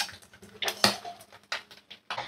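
Eggs being beaten in a small bowl before frying, heard as quick, uneven clinks and taps of a utensil against the bowl, with a few sharper knocks, fairly close and with no talking.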